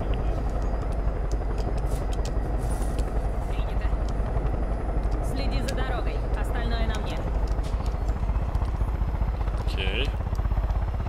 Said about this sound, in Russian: Я тут вообще-то на вертолете.